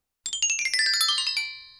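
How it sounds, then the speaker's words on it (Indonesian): Phone ringtone starting abruptly, a rapid run of bright, chiming electronic notes that fades out after little more than a second, clear and alone without talk. "Telepon."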